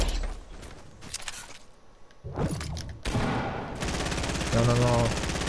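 Rapid gunfire in a shooter video game, dense bursts of shots building to sustained loud automatic fire, with players talking over the action.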